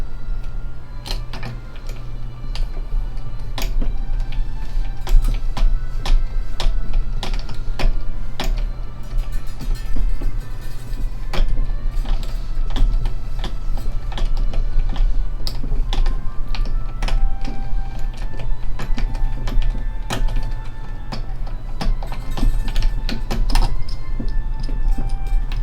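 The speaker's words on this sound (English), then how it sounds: "And then cranking." Someone turns the tuning peg on a steel-string acoustic guitar while restringing it, giving a long run of close, dry clicks and ticks, with a low steady hum underneath.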